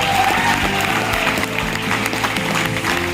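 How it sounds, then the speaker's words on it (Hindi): An audience claps steadily for a wellness company at a network marketing gathering, the dense applause mixed with a low droning musical tone throughout. "एक जोरदार तालियां होनी चाहिए"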